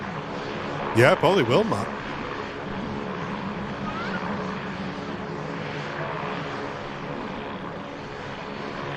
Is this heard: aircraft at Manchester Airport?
yes